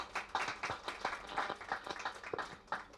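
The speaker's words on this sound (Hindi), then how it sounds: "तालियां होनी चाहिए।" Scattered audience applause at a panel discussion, a quiet, uneven patter of hand claps heard from a distance.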